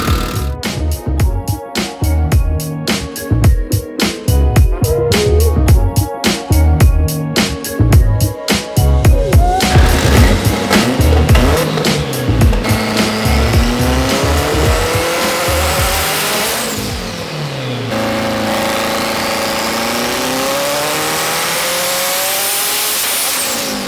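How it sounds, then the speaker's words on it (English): An 1100 hp Evo 9 on a dyno roars very loudly, its engine revving hard with rapid pulsing strokes, then climbing and falling in long sweeping runs, steady and close throughout. "This thing is ridiculously loud."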